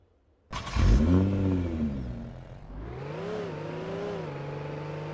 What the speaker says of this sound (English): I'm pretty sure this has a custom engine sound.